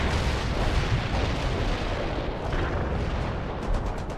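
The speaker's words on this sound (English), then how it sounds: "Anti-tank strike is inbound." An anti-tank strike in World in Conflict brings a continuous roar of heavy explosions and rumbling blasts, dense and loud throughout with no clear gaps between impacts.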